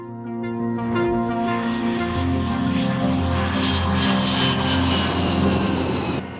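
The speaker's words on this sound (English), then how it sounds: "F-22 Raptor" F-22 Raptor fighter jet, a loud, steady engine roar that rises slightly as it passes, sustained throughout with no voices.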